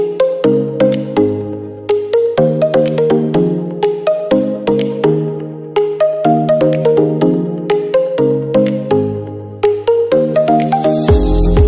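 A telephone at a homestay rings with a repeating electronic melody of plucked, bell-like notes, loud and close, with no one talking over it.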